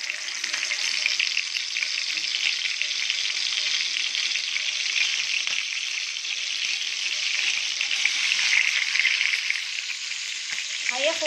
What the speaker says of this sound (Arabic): هياخد بقى التحمير بتاعه وهتقلبيه شمال ويمين